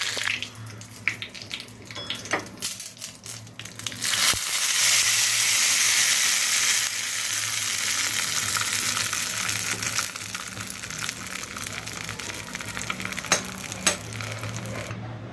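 A hot mustard-seed tempering is poured over thin peanut chutney, giving a rushing close sizzle that swells after a few seconds of clatter and then holds a steady hiss, fading slightly toward the end.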